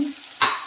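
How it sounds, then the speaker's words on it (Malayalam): Half a glass of water poured into a hot cooking pan, a short hissing splash that bursts in abruptly and carries on briefly, with no talking. "ഒരു അര ഗ്ലാസ് വെള്ളം ഇതിലേക്ക് പകർന്നു കൊടുക്കാം"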